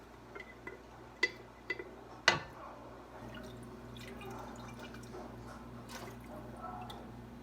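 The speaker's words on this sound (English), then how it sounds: "I'm dipping the jar in there, making sure I get all the candy out." A glass jar dipped into liquid in a pot to rinse out dissolving candy for cinnamon pickles, giving a few close, small drips and splashes, one sharper clink, then a steady low watery wash, with no talking.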